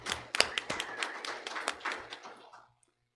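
Brief, sparse clapping from a small group at a school board meeting, a few scattered claps that thin out and stop after about two and a half seconds.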